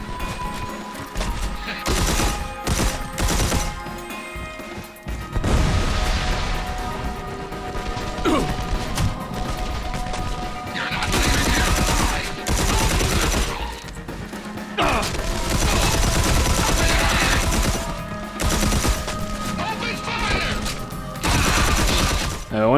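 Machine gun fire in Red Faction: Armageddon, loud bursts of rapid shots mixed with crashes, smashes and mechanical clatter that come and go across the stretch.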